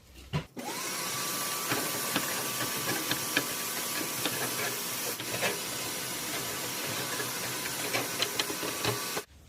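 A vacuum cleaner runs with a steady, loud motorized whine and constant hum while dust is cleaned from a refrigerator, broken by a few brief clicks and knocks, starting abruptly after a short pause.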